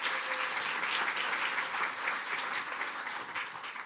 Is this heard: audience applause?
yes